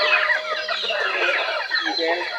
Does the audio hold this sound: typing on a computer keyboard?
no